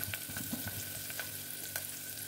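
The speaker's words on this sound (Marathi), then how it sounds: "लसूण थोडीशी साईडून लाल लाल झाल्यानंतर त्याच्यात टोमॅटो, मिरचीच्या आधी आलं टाकलं" Garlic, ginger, tomato and green chili frying in oil for kadhi, a soft continuous sizzle with a few light spoon taps and stirs, fairly quiet and close, no one talking.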